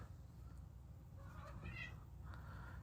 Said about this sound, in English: Excuse my cats in the background.